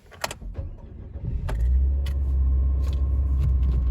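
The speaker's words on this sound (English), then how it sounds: "and now restart it again" A few clicks and a key jingle, then a Nissan Versa S engine cranks and catches, settling into a steady low idle rumble close by.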